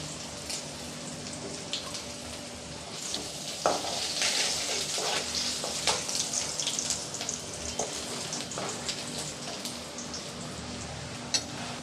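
Loud, continuous sizzling of chopped ginger frying in hot oil, punctuated by scraping stirs and brief crackling bursts.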